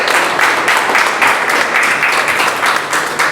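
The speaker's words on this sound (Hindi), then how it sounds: "इतने बड़े समाज सेवी के लिए जोरदार तालियां हो जाए।" Audience applause at a book launch event, a steady dense wash of many hands clapping, loud and close, sustained throughout without pause.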